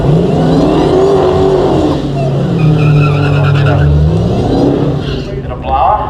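Supercharged Mopar drag racing car at a Mopar drag event, a loud blown engine revving and roaring with rising and falling pitch and some tire squeal, with a commentator talking over it.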